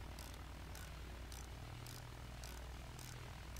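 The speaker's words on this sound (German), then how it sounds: "Flugzeug klingt sehr gesund." Steady propeller airplane engine drone from Battlefield 1, a continuous low hum with faint periodic bursts of higher noise repeating about every half second, quiet and without talk.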